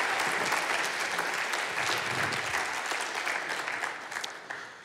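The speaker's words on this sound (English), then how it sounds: "Try not to let the applause die until Jan gets up here." An audience applauds a prize winner called to the stage, a steady round of clapping that stays fairly strong before easing off slightly at the end.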